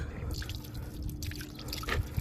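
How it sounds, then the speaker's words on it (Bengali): Filtered drinking water running from a tap at a public water station in hot Saudi Arabia, a short close trickle and splashing stream with no voices. "তো এই দেখেন পানি বের হচ্ছে এখান থেকে।"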